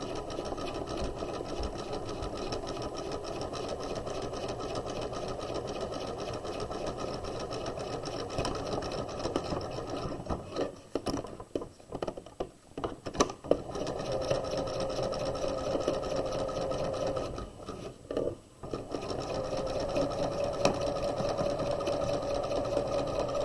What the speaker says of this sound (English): we're going to edge stitch, making sure that we catch the raw edges of the area of the bag that we left open